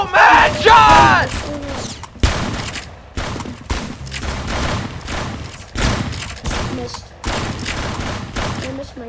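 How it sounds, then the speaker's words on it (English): Rapid gunfire in the Arsenal shooter game: dense bursts of shots and fusillades repeating throughout, loud and close, with a player's shouting and voices mixed in over the shooting. "I'm trying to shoot them in the head."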